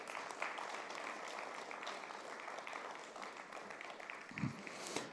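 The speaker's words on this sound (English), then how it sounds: "give them also a round of applause." Conference audience applause in a large hall, a soft, steady patter of many hands clapping that carries through the whole clip, with a couple of louder thumps near the end.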